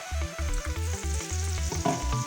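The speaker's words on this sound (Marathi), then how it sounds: "आता आपण ह्याला फ्राय करायला घेऊया चांगलं सगळीकडनं बुडवून घ्या आणि मग तळा" Batter-dipped vadas deep-fry in hot oil with a bubbling sizzle, overlaid by a loud, rhythmic low humming or buzzing pattern that pulses on and off.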